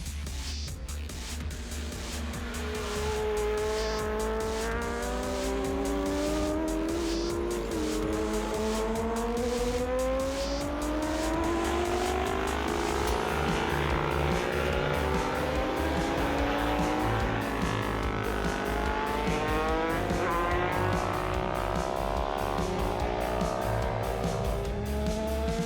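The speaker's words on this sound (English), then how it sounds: "the 2012 four-wheel Jamboree roared with burnouts and chaos" Diesel trucks doing burnouts at the 2012 Four-Wheel Jamboree in Lima, Ohio: loud, sustained tire squeal with wavering pitch over a deep, steady engine roar, continuous for the whole stretch with no voices.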